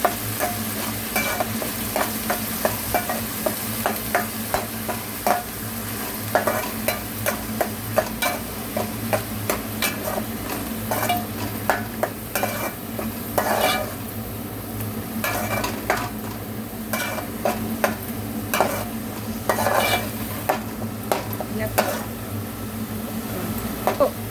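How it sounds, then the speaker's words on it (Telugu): Onion paste frying with curry leaves in hot oil, a constant loud sizzle broken by frequent rhythmic scrapes and clinks of a spoon against the pan, close up and without speech. "కరివేపాకు వేసిన తర్వాత ఉల్లిపాయ పేస్ట్ వేసి బ్రౌన్ కలర్ వచ్చేవరకు వేస్తాను."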